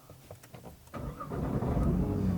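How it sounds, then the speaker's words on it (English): A Nissan GT-R Nismo engine is started: a few cranking clicks, then the motor catches and settles into a loud, rough idle with a rattle, close by and with no talking. "the engine has a really nasty sounding rattle when you first start it"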